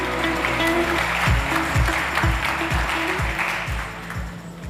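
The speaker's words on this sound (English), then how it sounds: "Big applause." An audience at a startup competition event gives sustained, dense applause that fills the room. A steady, rhythmic low musical beat thumps underneath as the clapping slowly eases.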